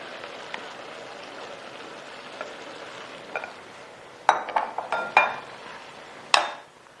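Meat pieces for Kabuli pulao go into a pot over faint background sizzling, with several sharp clattering impacts clustered near the end.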